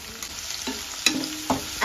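Tomatoes and garlic for a fish curry sizzle in a pan, sputtering steadily. Sharp scraping clatters from stirring come at intervals.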